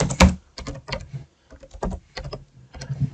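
Rapid clicking of keys on a computer keyboard while a file path is entered in a terminal, irregular bursts of close, fairly loud keystrokes with brief pauses.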